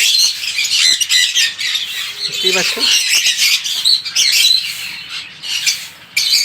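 A dense chorus of high, rapid chirps and squeaks from many masked lovebirds fills the space continuously, with someone briefly speaking underneath.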